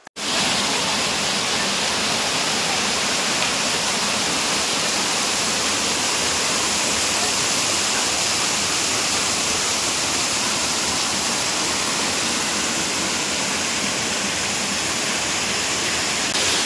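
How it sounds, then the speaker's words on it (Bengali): Waterfall at Daringbadi, Odisha, a dense, unbroken roar of rushing water that stays loud and even throughout, heard up close with no voices. "ফাইনালি আমরা এসে পৌঁছে গেছি একদম ওয়াটারফলসের কাছে।"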